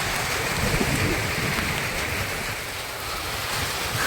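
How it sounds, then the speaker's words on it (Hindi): Sudden heavy rain pouring down outdoors, a loud dense hiss with low rumbling splashes that holds steady throughout, with no talk over it. "उधर से बहुत तेज बारिश आ रहा है, तेज तेज आ गया बारिश"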